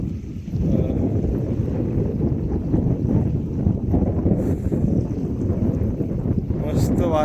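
Steady evening wind gusting across the open water at Veer Dam, a constant loud rush and rumble buffeting the microphone throughout with no pauses.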